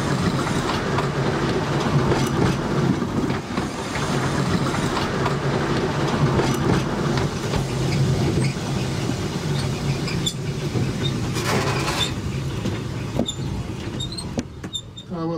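A narrow-gauge tram on the Seaton Tramway in the UK, heard from the cab as it rolls steadily along the rails with continuous rumble, wheel squeaks and clickety-clack over joints, no talking.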